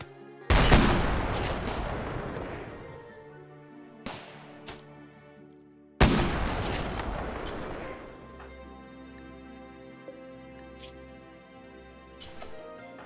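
Rapid bursts of automated mini turret fire in a colony-building video game, two loud volleys a few seconds apart, each trailing off with scattered single shots and thuds, with no talking.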